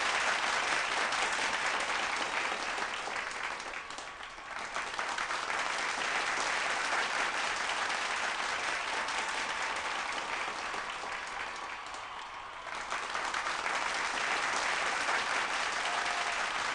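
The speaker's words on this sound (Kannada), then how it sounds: "ಜೋರಾಗಿ ಚಪ್ಪಾಳೆ." A stage audience at a televised event claps loudly and steadily to welcome guests, dense sustained applause that dips briefly twice before swelling again.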